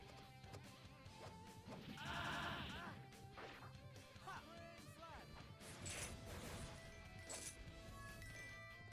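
Stock broken-glass effect from the game Grandchase: a bright shattering crash with tinkling shards, set among other game sounds, clicks and impacts in a busy mix, the glass burst standing out briefly near the middle.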